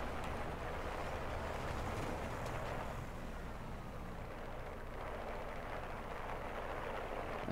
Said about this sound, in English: That's my engine.